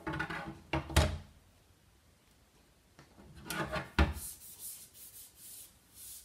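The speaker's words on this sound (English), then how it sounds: "I'm just going to wipe this off with a wipe." Ink is wiped off the underside of a screen-printing screen with a wipe, giving soft, close rubbing and scraping strokes in a few bursts with a couple of light knocks, quiet pauses between them.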